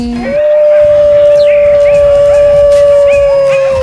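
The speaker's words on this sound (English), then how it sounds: "Howl, howl, they are saying." Wolves howl in a long, steady, loud, mournful tone that holds nearly level for several seconds, with fainter higher yips and howls from other wolves overlapping in the background.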